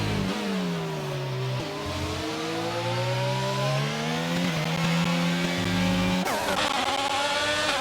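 Formula 1 cars racing at the Portugal circuit in an F1 video game, with loud, close engines revving and shifting through rising and falling gear pitches, then a sharper burst of engine noise near the end.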